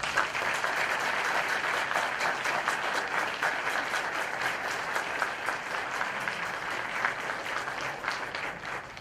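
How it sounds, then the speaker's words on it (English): Steady, dense applause from an audience honoring the judges at a national collegiate moot court championship, filling the room evenly for the whole stretch with no talk over it. "Can we please give them a round of applause?"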